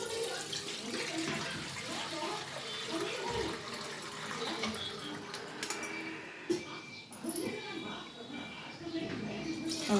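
Water pours into a saucepan in a home kitchen as a steady running splash, with brief clatter and a voice talking faintly nearby.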